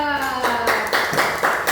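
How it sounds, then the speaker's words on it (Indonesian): Fourth-grade pupils in a classroom clap for a group after a barter activity. A short voice comes first, then a run of about six quick, rhythmic clap bursts, close and fairly loud. "Oke, tepuk tangan untuk kelompok barter."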